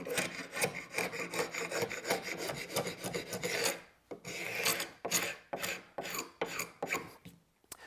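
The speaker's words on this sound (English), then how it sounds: "So I'm using a carbide scraper." A carbide scraper removes glue squeeze-out from the joint lines of a wooden steamer trunk, giving a quick series of rasping strokes in an even rhythm, a short pause near the middle, then more strokes, close and alone.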